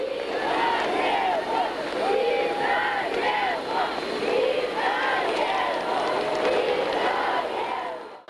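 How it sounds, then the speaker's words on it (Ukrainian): A large crowd at Lviv airport shouting greetings to Pope John Paul II in repeated waves of cheers, loud and continuous, with voices blending together. "На львівському литовищі його зустрічали під вигуки «Вітаємо!»"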